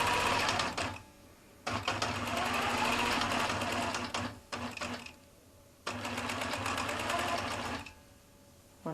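A quilting sewing machine with an I/S Turbo system stitches in close, loud bursts of steady rapid needle hum. Each run lasts a few seconds and breaks off into short pauses when the machine stops with the needle up or down.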